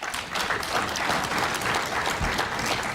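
Audience applause in a legislature chamber at an opening ceremony, a dense steady wash of many hands clapping close by, sustained throughout with a slight swell at the start.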